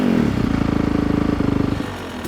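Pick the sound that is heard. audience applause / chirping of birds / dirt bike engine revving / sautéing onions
dirt bike engine revving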